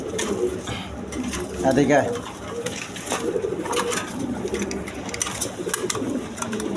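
Colored Rajgola pigeons, two big males, coo in a low, repeated murmur close by, with someone talking over them for most of the stretch.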